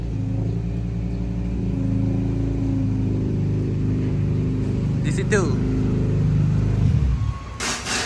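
A Honda Integra DC2 engine idles with a deep, steady harmonic hum, then rises in a short rev before dropping off near the end, heard close up with a voice speaking over it.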